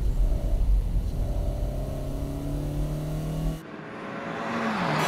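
A Honda CR-Z sports compact races on a track, its engine loud and near as it revs and pulls hard, then drops to a lower whine after an abrupt shift in sound near the end.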